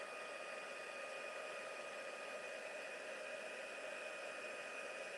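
A heat tool sets embossing powder on a handmade card, giving off a constant whooshing blower hiss that stays steady and even throughout.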